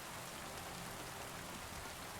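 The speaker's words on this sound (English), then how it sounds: "it's raining like heck right here" Rain pours down steadily in the medieval video game Kingdom Come: Deliverance II, a dense, even hiss of heavy falling water that holds without pause and with no talk over it.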